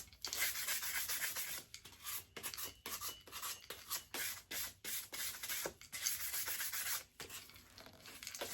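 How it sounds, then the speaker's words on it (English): Sandpaper scuffs a sublimation tumbler in quick, rhythmic back-and-forth strokes with short pauses between passes, a steady close rasping that continues throughout with no talking. "I like to go ahead and sand my tumbler just a little bit"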